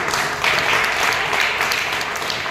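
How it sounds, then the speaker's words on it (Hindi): Loud, sustained applause from the audience fills a hall at a state darts championship in Mathura, with dense continuous clapping and no talk. "जोरदार तालियां की है।"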